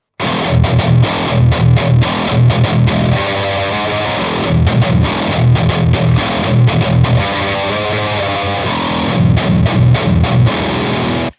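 Heavy distorted electric guitar chugs through an amp on channel 1 in tight, rhythmic palm-muted bursts, loud and continuous with brief gaps between riffs.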